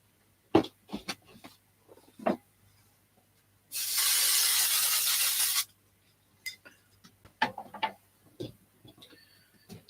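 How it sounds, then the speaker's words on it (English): A spray can lets out one sustained hiss lasting about two seconds, close and fairly loud, amid scattered light clicks and handling taps before and after. "So I'm going to use some spray on that one."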